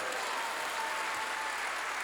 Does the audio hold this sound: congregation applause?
yes